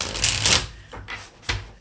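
Tarot cards being shuffled by hand, a papery riffling burst lasting about half a second followed by two shorter, softer shuffles, close and clear with no talk.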